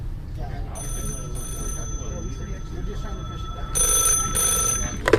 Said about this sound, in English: Their cumbersome conversation was interrupted by the ringing sound of the next customer.